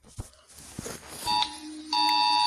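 An animated Romanian EAS emergency alert sounds as a steady, piercing electronic alarm tone that starts, breaks briefly and resumes louder, after a few soft thumps and background noise.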